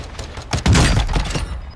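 Gunfire in the video game Warzone 2 comes as a short burst of several rapid shots, loud and punchy, with no talking over it.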